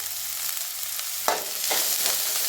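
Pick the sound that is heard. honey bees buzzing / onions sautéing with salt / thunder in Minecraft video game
onions sautéing with salt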